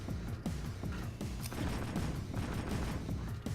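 Gun turrets firing with laser sights in Jak II on PS4 at the Crimson Guard fortress, a dense continuous barrage of rapid booming shots and thuds with no pauses.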